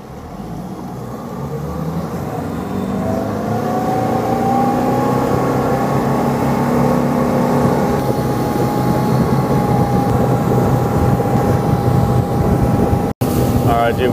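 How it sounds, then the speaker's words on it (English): A fishing boat moves out on its trolling motor with a steady, low motor hum and a faint whine that rise slightly and then hold even. Water and wind noise run underneath throughout. "Trolling motor's taking us out."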